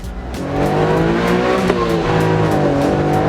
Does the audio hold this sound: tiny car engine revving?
yes